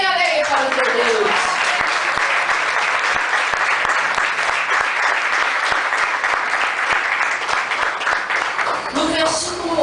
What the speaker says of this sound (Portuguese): As palmas bem alegres para o teu Deus.